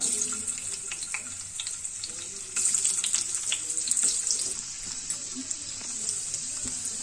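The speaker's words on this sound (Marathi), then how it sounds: "हे आल्याचे तुकडे तेलात घालायचे, हलके भाजून घ्यायचे" Pieces of ginger fry in a couple of spoons of hot oil, a steady bright sizzling hiss that swells slightly partway through, with occasional soft pops and clinks.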